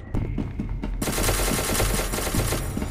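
Automatic gunfire in the video game SCP: Secret Laboratory, with a few scattered shots followed by a loud, dense burst of rapid fire that continues to the end.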